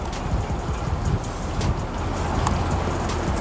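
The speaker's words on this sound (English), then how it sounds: "It's windy out here." Gusty wind buffets the microphone outdoors in a small garden, a steady rushing roar with a few sharper bursts and no voices over it.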